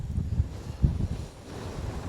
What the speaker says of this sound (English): it is still extremely windy up here